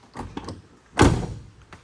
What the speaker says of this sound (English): I meant to show you the door, how easy it closed and how good it closed